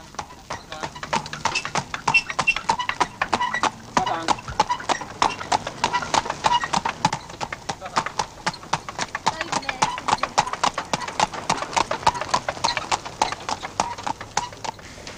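Andalusian horses pull a training gig at a stud, their hooves clip-clopping in a brisk, steady rhythm on a hard surface, loud and close throughout, with someone narrating over them.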